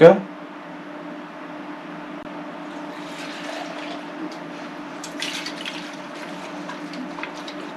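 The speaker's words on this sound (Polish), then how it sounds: "Wlewam pierwszą mieszaninę, czyli 95." A WSK 125 motorcycle tank is filled with 95-octane petrol mixed with two-stroke oil at about 1:30. A knock at the start gives way to a faint, steady trickle of liquid that runs throughout.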